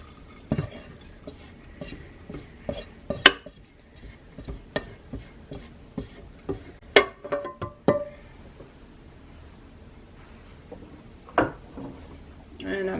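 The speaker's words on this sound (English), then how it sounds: "So we're going to add in the ground beef and onion mixture" Ground beef and onion mixture scooped and spooned into a crock pot, giving a run of close clinks and scrapes of a utensil against the pot, irregular and dense early on and sparse later.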